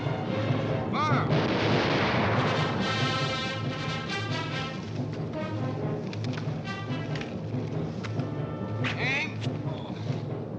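Rifle volleys crack repeatedly in a 1952 period adventure film about Botany Bay, shots ringing out over a continuous music score and commotion, with voices barking orders between the bursts.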